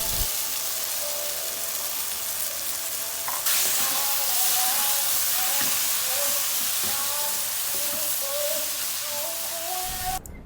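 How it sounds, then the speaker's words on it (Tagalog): Garlic, onion and tomato sizzle steadily in a hot pan, with stirring scrapes throughout, and the frying grows louder and brighter partway through as beaten egg goes in, crackling close and continuous with no talk. "Kinakailangan lang igisa yung bawang sibuyas, kamatis, at titimplahan lang ito ng patis, asin at paminta at ilalagay na yung pinating itlog"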